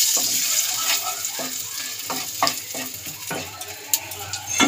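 Turmeric powder and spices stirred into hot oil for fried radish greens with prawns: a bright sizzle broken by repeated scraping strokes of a spoon in the pan, close and fairly loud.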